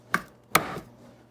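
Skinned ingredients being smashed on a cutting board, three sharp close thuds spaced about half a second apart with quiet between them.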